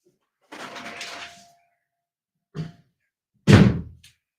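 A stuck door being forced: a brief rustling scrape, then a short knock, then a heavier thud after a pause, each separated by silence.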